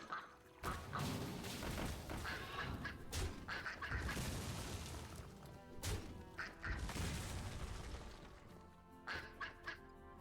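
Cartoonish duck quacks from a Hearthstone card played in a Mage arena match, a clear burst of quacking amid dense game music and effects, with some clashing impacts around it.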